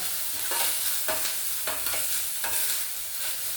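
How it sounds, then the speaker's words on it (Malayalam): Curry being stirred in a cooking pan, a spoon scraping through it in repeated strokes about every half second over a steady background sizzle. "ഇതൊന്ന് നമുക്ക് ഇളക്കി കൊടുക്കാം"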